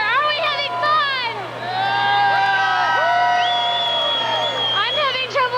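A New Year's Eve crowd in Sydney, Nova Scotia, welcoming the year 2000 fills the air with loud whoops, rising shouts and cheers, a continuous, lively din.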